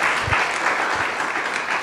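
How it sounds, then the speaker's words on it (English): An audience claps steadily at a student entrepreneurship demo day, a short even burst of applause filling the room with no speech over it. "So please have another round of applause for Tyler."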